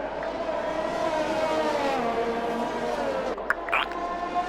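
Formula 1 car engine from the F1 2021 racing game, a Red Bull car, drones at a steady high pitch as it runs past, loud and sustained, with a brief sharper tone near the end.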